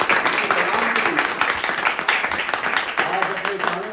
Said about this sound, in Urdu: بھرپور تالیاں یسوع کے نام پر